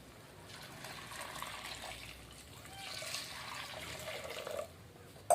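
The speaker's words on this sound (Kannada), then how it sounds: "ನೀರು ಹಾಕ್ಲಾತೀನಿ" Water poured into a cooking pot of lentils, a soft splashing trickle that swells and fades over a few seconds, fairly quiet and close.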